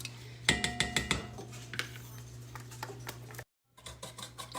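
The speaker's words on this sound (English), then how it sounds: "Whisk it all together here." Metal whisk beating French toast batter with nutmeg and vanilla in a bowl, a quick run of sharp clinking taps against the bowl, pausing briefly before resuming in a steady rhythm.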